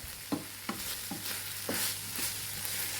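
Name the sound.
drumstick leaves with onion and garlic sautéing in pan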